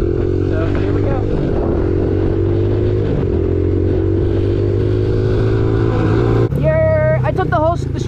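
A 450 motorcycle rides along a street, its engine droning steadily and loudly up close, with a shift in pitch near the end as it revs and changes speed.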